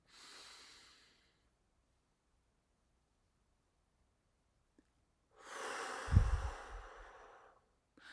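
Slow breaths taken during a counted breathing exercise, a soft exhale at the start, then long silence before a louder, airy inhale with a snort-like rush near the end, close and alone.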